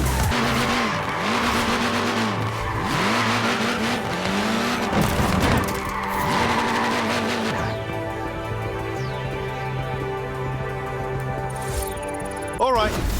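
Tyres of a short-wheelbase, front-wheel-drive Mini race car skid and squeal in Forza Horizon 4, with a revving engine and repeated wavering screeches over the first half, then a steadier engine drone, loud and close, under commentary.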